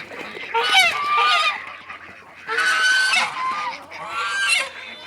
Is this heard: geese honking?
yes